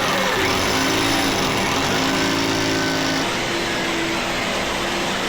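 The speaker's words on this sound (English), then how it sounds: "Let's get drilling." A power drill whines steadily at high speed as it bores into the ground, its motor pitch shifting slightly partway through, with no talking.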